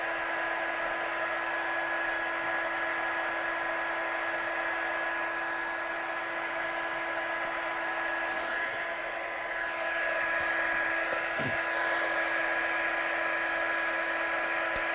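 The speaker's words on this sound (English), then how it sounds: "So I'm just going to get my gun good and hot. And then we'll activate this embossing powder." A heat gun runs continuously, warming up to melt embossing powder for stamped card crafting; a steady, loud blowing whine with a high electric tone holds for the whole stretch, with faint background sounds.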